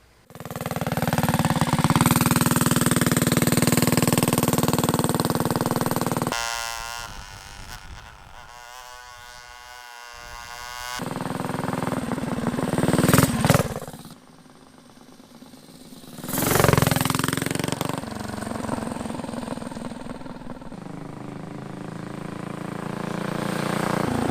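A small engine on a homemade mini trike buzzes through a test ride. It rises and falls with the throttle, fades in and out as it passes, and drops away to near quiet in places.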